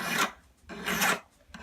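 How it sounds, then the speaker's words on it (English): A hand file rasps over the outside of a soldered 5 mm flat ring band, two long strokes followed by the start of a third, each a close, loud scrape separated by short pauses. "When filing the outside, don't just file at the spot."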